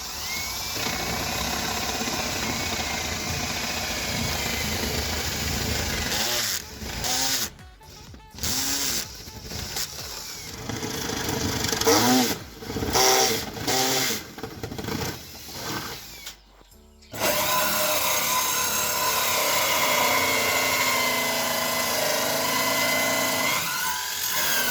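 A large hole saw bit on a power drill bores entrance holes in a wooden budgie nest box, giving a loud, steady whining grind with several brief pauses as the cut stops and restarts, then a continuous run to the end.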